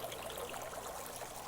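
Water trickles steadily from low-budget irrigation tubing, fed by AC unit runoff, into a water fountain, a continuous close burble with no voices.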